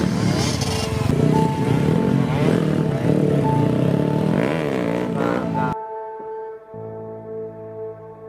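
A two-stroke motorcycle engine revs loudly with a rough, buzzing roar and rising pitch sweeps, then cuts abruptly near the end, leaving a quieter steady drone.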